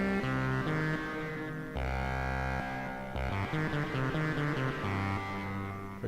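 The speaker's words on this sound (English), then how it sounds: "overdrive." Overdriven guitar tone from a multi-effects unit's demo mode, harmonically rich sustained notes and chord changes played in a continuous phrase, steady and moderately loud, no talking.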